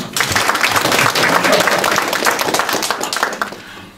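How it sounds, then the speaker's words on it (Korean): An audience at a spoken lecture bursts into dense, close clapping that starts at once, stays loud and even, then thins and fades away toward the end. "우선 박수부터 쳐요."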